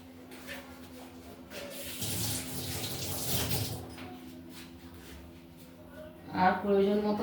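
Water is poured into a bowl of snake gourd fry batter being mixed with egg and spices, a soft splashing stream under a voice speaking, followed by a brief clatter near the end.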